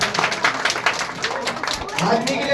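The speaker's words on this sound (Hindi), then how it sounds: "ताली बजाओ भाई।" Audience applause at an Ambedkar Jayanti community gathering in Neb Sarai, New Delhi: steady, fairly close rapid clapping from a crowd, running on through the whole stretch with voices in the background.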